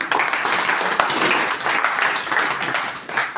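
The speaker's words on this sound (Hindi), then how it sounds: "चलिए इनके लिए एक जोरदार ताली।" Dense, sustained applause from a crowd, clapping loudly and evenly for several seconds.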